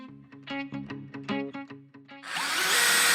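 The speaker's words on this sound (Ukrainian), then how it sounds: "Будемо закручувати шурупи на п'ятому крутному моменті." A DeWALT DCD703 cordless drill drives screws at torque setting five with no attachment: a close, stuttering motor whine pulses in quick bursts, then swells into a loud, steady whirr.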